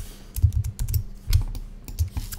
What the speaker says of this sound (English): hit A on my keyboard, and this time I'm gonna hit the right arrow key